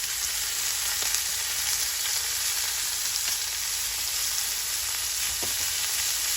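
Butter sizzles hard in a cast iron skillet with a pan-seared ribeye: a loud, continuous hiss fills the sound, broken only by a few faint clicks, with no voices.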